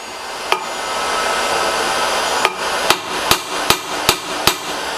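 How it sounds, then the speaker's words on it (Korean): A hammer striking a bolt head to break threadlocker while a Yamaha YZF-R1 motorcycle wheel is changed. One sharp strike comes first, followed after a pause by a quick series of six loud, evenly spaced metallic blows at close range. "망치로 칠 때 이 볼트 머리 부분을 잘 쳐야지"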